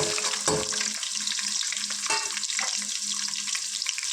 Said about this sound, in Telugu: ఇవి చక్కగా లైట్ గోల్డెన్ బ్రౌన్ కలర్ వచ్చే వరకు ఫ్రై చేసుకోవాలి